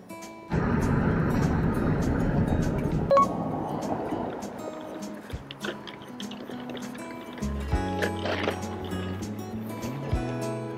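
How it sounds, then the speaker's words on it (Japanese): A taxi ride at night toward a hotel in Shin-Osaka, Japan: steady engine and road rumble inside the cab, loud at first then settling, with faint clicks and a few higher tones near the end. "もうね、遅いのでこれからタクシーに乗ってホテルの方に向かっていきたいと思います。"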